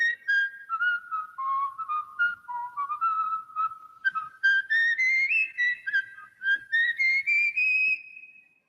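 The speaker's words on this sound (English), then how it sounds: "You could go to the movies and hear a man whistle." A man whistles a wandering melody from an old movie, clear and fairly close, in quick phrased bursts that rise in pitch toward the end.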